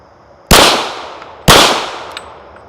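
Two loud, sharp pistol shots from a .40 caliber handgun, about a second apart, each with a sharp crack and a decaying echo tail, heard alone.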